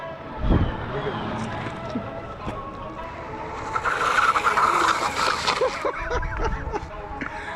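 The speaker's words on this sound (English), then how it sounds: "even without regen, those brakes are good enough where I can burn a tire" A DIY electric bike brakes hard and its tire skids in a rough, hissing scrape that swells partway through and lasts a couple of seconds, with people talking over and around it.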